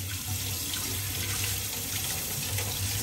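Tap water runs steadily into a sink while hydroponically grown lettuce leaves are rinsed, a close, continuous splashing stream with a low hum underneath and no speech.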